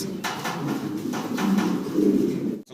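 Several pigeons coo in a steady low murmur at close range, soft continuous calls overlapping for a few seconds before fading briefly at the end.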